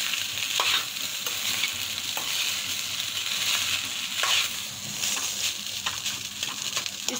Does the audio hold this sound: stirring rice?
yes